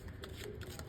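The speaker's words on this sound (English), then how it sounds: "I put Donald in there and Greenland, and we shuffle them really well." Brief, quiet riffle of cards being shuffled, a soft papery rustle with a few light flicks.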